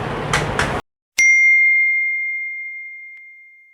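A bright notification bell rings once with a sharp metallic strike, then a pure tone decays slowly for over two seconds after a brief silence that follows some talk.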